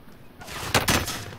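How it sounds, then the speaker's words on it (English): A few sharp gunshot bursts crack out close by over a low background hum in Call of Duty: Warzone, with a tight cluster of shots near the middle. "Gunfire to the rear."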